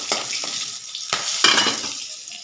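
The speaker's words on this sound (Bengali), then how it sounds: "ফোড়নটা একটু নাড়িয়ে চাড়িয়ে নেব।" A tempering of black cumin, green chilli and bay leaf is stirred in hot fish-frying oil, giving a close sizzle broken by several quick scraping strokes of a spatula against the pan.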